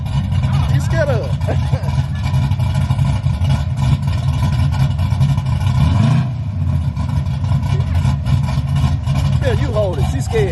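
A Chevrolet Monte Carlo with a Flowmaster single-chamber exhaust rumbles loudly and steadily, revving and swelling as the throttle opens, while people talk and shout over it close by.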